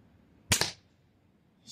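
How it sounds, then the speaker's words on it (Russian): Mamba Aggregator crossbow releasing a single shot outdoors: one sharp, loud snap followed quickly by a second thump, then a short fading rattle and quiet. "Мы все 5 стрел выпустили."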